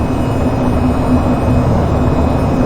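Steady, loud jet engine roar in the VTOL VR flight game with a faint tonal hum, continuous and unchanging for the few seconds, no talking.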